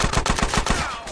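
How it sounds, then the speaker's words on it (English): Rapid automatic gunfire in GTA San Andreas, about eight evenly spaced loud shots in a fast burst, close and punchy. "CJ, take out that sniper."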